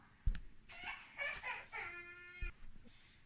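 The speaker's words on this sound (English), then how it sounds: "I can hear a child crying" A young child nearby makes a short burst of high, wavering vocal sounds, somewhere between crying and giggling, in a quiet room.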